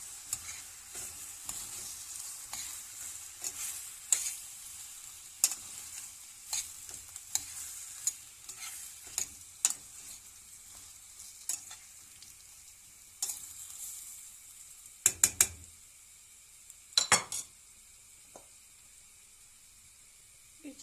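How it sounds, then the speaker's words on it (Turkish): Vegetables with added tomatoes sizzle steadily in a hot pan while a utensil scrapes and stirs in irregular taps and clacks, with a few louder clatters near the end. "şöyle bir karıştırayım"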